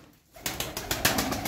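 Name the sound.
pigeons of tumbler and Iraqi feather-footed breeds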